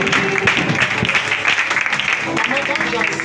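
Congregation applauding during a church service, a dense, loud patter of clapping running throughout with a voice speaking over it.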